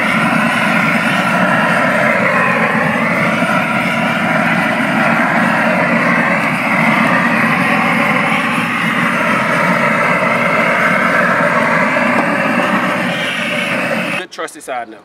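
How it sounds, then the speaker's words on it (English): A loud, steady roar from a propane torch fires into a smoker firebox to get the fire going. The harsh, continuous rush holds close and constant for nearly the whole stretch, then breaks off into a few rough bursts at the end. "let's go ahead and throw that flame or that propane torch on there and get it a little bit more cracking"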